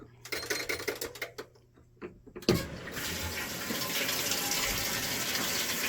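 A Speed Queen top-load washer begins filling: after a few clicks and knocks, water suddenly rushes in with a loud gush and settles into a steady, close pouring roar.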